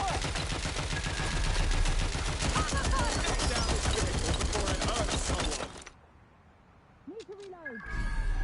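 Sustained suppressive gunfire in Watch Dogs Legion rattles in dense rapid bursts for several seconds, then cuts out, leaving a quiet gap with a few faint sounds before noise returns.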